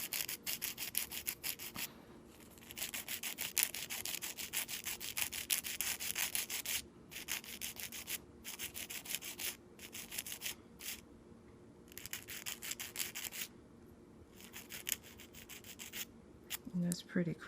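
A hand file rubbing back and forth across an acrylic nail tip, close rasping strokes in bursts with brief pauses between, faint and steady.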